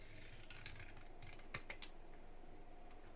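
Scissors snip through card for a handmade craft box, a few crisp cuts grouped around the middle amid quiet room tone, fairly faint and close.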